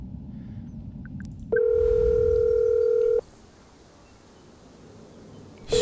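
A phone in the video game Ithaca sounds a steady electronic dial tone that holds for under two seconds and then cuts off, leaving a quiet hiss with faint background hum.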